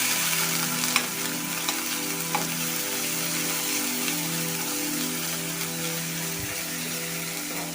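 Spices for misal temper in hot oil in a pan, a continuous close sizzle and crackle with occasional scrapes of stirring, steady and moderately loud throughout.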